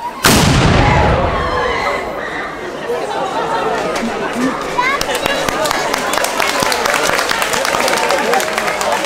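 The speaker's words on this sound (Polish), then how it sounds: "Uwaga, strzał!" A single loud, booming ceremonial gunshot cracks out at the start of a museum night opening ceremony, then crowd chatter and voices fill the space as the echo dies away.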